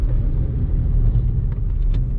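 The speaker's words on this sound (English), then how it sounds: "The traffic is a bit of a nightmare around here" Road traffic rumbles steadily nearby, a low continuous hum of passing cars with no voices.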